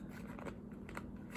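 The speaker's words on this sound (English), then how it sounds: "before I finish shuffling, you had the Wheel of Fortune at the top of the deck" A tarot card deck is shuffled in short riffling, papery bursts, faint and close, with no talk.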